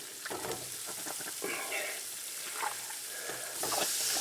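Hamburger meat sizzles and fries in a hot pan for a hamburger stew, a steady crackling hiss with brief stirring sounds, fairly close and without talk.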